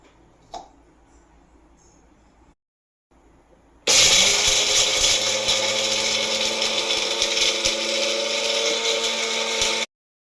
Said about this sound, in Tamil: மிளகு நம்ம உப்பு போட்டு லாஸ்ட்டாக ஜாரில் அரைச்சிக்கலாம்